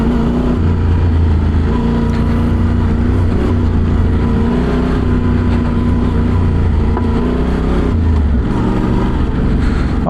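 An off-road motorcycle rides through woodland trails in low gear, its engine a steady, loud, continuous rumble throughout with no pauses.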